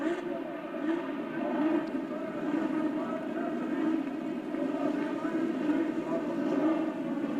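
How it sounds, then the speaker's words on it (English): Race car engines at the 1984 Indianapolis 500 start up and run together, blending into a steady, far-off droning roar that holds evenly throughout. "Looks like everybody has gotten their engines underway."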